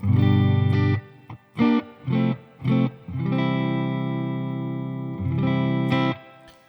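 Electric guitar chords ring out with a wash of reverb from a Dream 65 reverb pedal, a few short stabs then a long sustained chord that lingers and decays, played alone.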